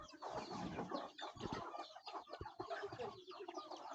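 Hens and roosters cluck and call continuously close by at a home where the birds are being called over, making a busy, overlapping flock chatter with no talk.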